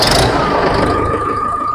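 A TrakStar 545 tractor's engine runs nearby, a loud steady diesel rumble with a low throbbing beat and a faint whine running over it.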